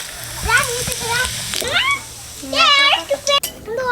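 Dry red chillies, whole cumin and bay leaves sizzle in hot oil, a steady crackle under a woman's speech and a voice nearby.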